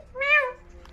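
A pet parrot imitates a cat's meow, giving one clear rising-and-falling mew of about half a second, close and fairly loud, followed by quiet room sound.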